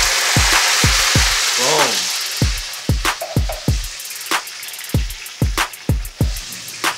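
Garlic and hot red pepper flakes frying in oil on a home stovetop, a steady hiss of sizzling overlaid by repeated sharp clacks and taps of a utensil against the pan, close and fairly loud.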